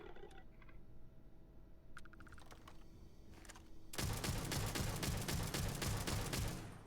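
Semi-automatic fire from the R0 18 Raptor weapon in the game Starfield, arriving as a dense burst of rapid gunshots in the latter part after quieter clicking sounds, loud and continuous with no talk.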